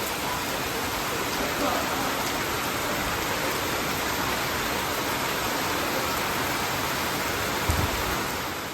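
Heavy rain pours steadily in a dense, unbroken hiss that continues at an even level, with a soft thump near the end.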